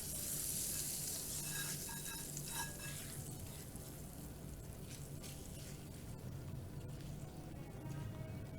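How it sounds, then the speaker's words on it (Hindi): Hot tadka tempering poured over phulki, giving a loud, close, steady sizzle and crackle that spreads across the whole moment before settling into a softer frying hiss, with no talking. "और अब हमने जो तड़का तैयार किया था वो तड़का जो है वो हम डाल देंगे अपनी फुल्की के ऊपर।"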